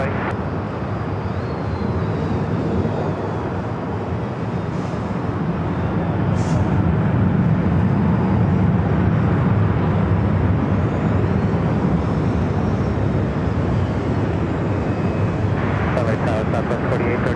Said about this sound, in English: The A380 Super now making that right-hand turn, heading to Tom Bradley